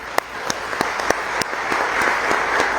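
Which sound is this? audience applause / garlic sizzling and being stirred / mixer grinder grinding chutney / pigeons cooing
audience applause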